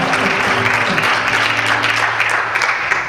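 Steady applause from a high school audience following a live folk song, a dense continuous patter with a low sustained tone lingering beneath it.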